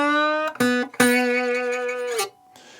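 Slide blues guitar in standard tuning, a short phrase of plucked notes and sliding held tones with brief muted gaps, close and clear, ending in near silence.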